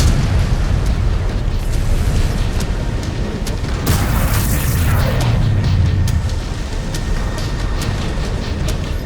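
Missile explosions in the video game MechWarrior 5 Clans rumble loudly in a dense, continuous wash of booms and crackles, with one stronger blast swelling midway and a steady mechanical drone beneath.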